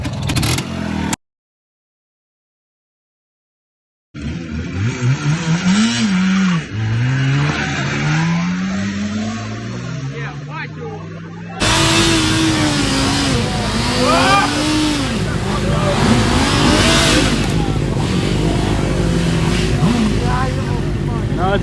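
An IZh Planeta motorcycle with a recharged flat battery starts after a brief silence, then its engine revs in rising and falling swells that grow louder and rougher, with voices talking over it.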